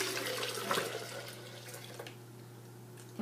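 Steady rushing of water pouring into a blender container, continuous and fairly soft, close by, with no talking.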